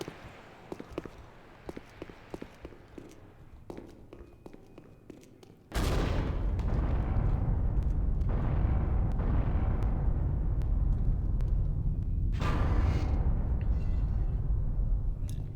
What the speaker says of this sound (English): that was pretty much just like the main reactor blowing up